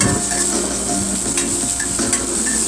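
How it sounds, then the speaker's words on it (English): An egg frying in a pan, with a steady close sizzle and occasional light scraping and clinks of a utensil against the pan, no talking. "frying an egg is not exactly ground shattering"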